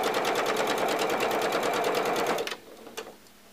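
A sewing machine stitches a quarter-inch seam on a fabric face mask, running in a fast, even rhythmic chatter close up, then stopping abruptly and leaving a few faint clicks.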